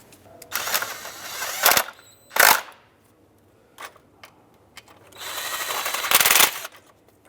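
A power tool snugs bolts on a 2003-09 Toyota 4Runner engine during a variable valve timing solenoid replacement, several short loud whirring bursts separated by pauses, with no talking.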